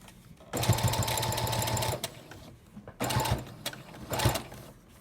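Sewing machine stitching a DIY fabric surgical mask, running in three short bursts of rapid needle chatter separated by brief pauses, close and fairly loud.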